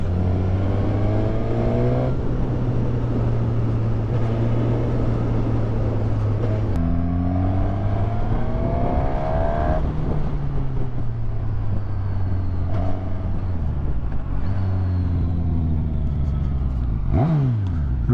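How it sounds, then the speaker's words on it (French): Suzuki 1000 Katana motorcycle engine revving up and down through several loud, close throttle sweeps, with a sharp rev burst near the end and no talking. "Ah, c'est le son de la GSX-S"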